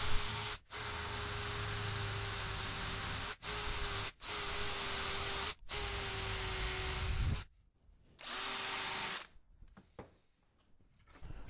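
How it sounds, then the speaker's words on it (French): A metal wire brush scrubs the body of a wood chisel clamped in a vise, giving a loud, steady hissing scrape in long strokes broken by short pauses, then fading to a few quiet scuffs at the end. "je vais nettoyer tout le ciseau en lui-même, tout le corps du ciseau, avec une brosse métallique"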